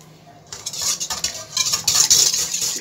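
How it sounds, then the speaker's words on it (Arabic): Liquids and eggs are mixed in a bowl with a utensil for a gluten-free coconut cake, close, quick, steady scraping and sloshing strokes that grow louder as the whisking speeds up, with no talking. "نخلطو السوائل، البيض"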